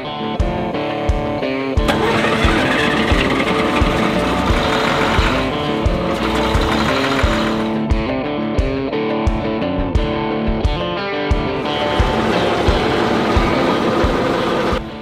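A tractor engine struggling to start on a cold morning, a loud, rhythmic grinding crank that keeps chugging unevenly and pauses briefly between attempts.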